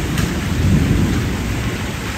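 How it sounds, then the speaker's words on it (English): At a zoo, steady rain hisses down while thunder rumbles low beneath it, one continuous close wash of storm noise with no voices. "Hear the thunder."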